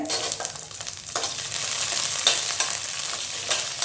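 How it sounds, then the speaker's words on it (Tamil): About five dried red chillies and small shallots sauté in hot oil for a tomato chutney, giving a close, bright sizzling hiss broken by the scrape and rustle of stirring. "எல்லாத்தையும் இந்த எண்ணெயில் வதக்கிடலாங்க."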